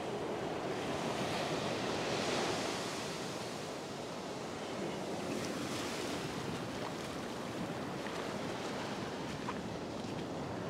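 Ocean surf washes and breaks continuously along a winter fishing beach, a steady broadband roar with gentle swells in loudness and some wind noise, no voices.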